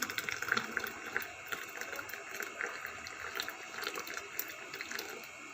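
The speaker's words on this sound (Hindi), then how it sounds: "थोड़ा मैं पानी डालूँगी" Cold water is poured into mixed yogurt for lassi, a continuous, soft, hissing splash of liquid at close range with no talk.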